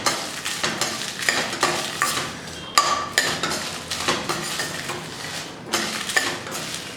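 Dried chilies dry-roast in a pan for tamarind rice spice powder, giving continuous stirring scrapes and light crackle with repeated metallic clinks of a utensil against the pan, fairly loud and close, no talking.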